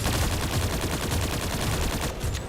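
Loud, continuous automatic gunfire in a video game, one long unbroken burst of rapid shots.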